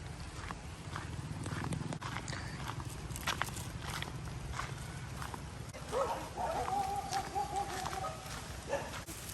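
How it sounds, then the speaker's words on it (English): Dogs barking at a distance on a Thai durian farm, faint scattered barks over footsteps and outdoor rustling, with a brief bit of nearby voice. "All those naughty dogs are barking at us."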